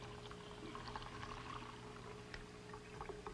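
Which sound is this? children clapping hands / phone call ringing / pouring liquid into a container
pouring liquid into a container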